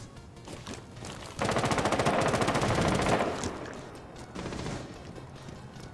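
Rapid machine-gun bursts from Rainbow Six Siege, loud and sustained for a couple of seconds, then a shorter second volley after a brief pause.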